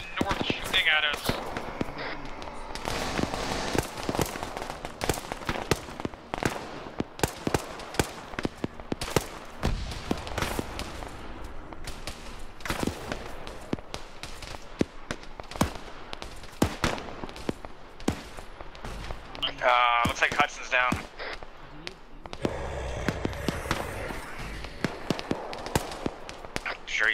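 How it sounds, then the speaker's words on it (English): Rapid bursts of enemy gunfire in a multiplayer shooter game, sharp cracks scattered densely throughout, mixed with game effects while players talk over it continuously. "It's the red masks to the north shooting at us."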